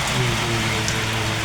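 A steady, dense patter of hail and rain beats down in a Maseru, Lesotho hailstorm, filling the brief moment with an even, close roar of impacts.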